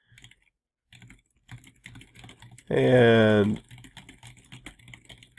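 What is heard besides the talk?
computer keyboard typing in Emacs editor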